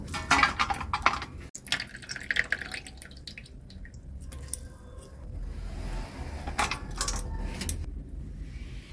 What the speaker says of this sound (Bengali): হাতের সাহায্যে এরকম চিপে জলটা যতটা সম্ভব ঝরিয়ে নিয়ে